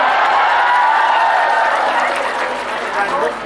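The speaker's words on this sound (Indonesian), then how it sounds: "suruh tepuk tangan dulu" An audience at an Indonesian religious talk claps and cheers, a broad, loud wash of applause that swells and then gradually thins out over a few seconds.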